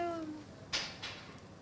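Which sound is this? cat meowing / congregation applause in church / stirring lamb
cat meowing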